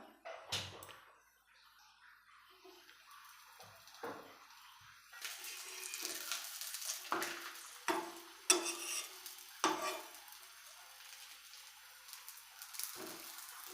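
Food frying in a pan in a home kitchen, a soft hiss of oil under scattered scrapes and stirring knocks, fairly quiet and close, with no talking.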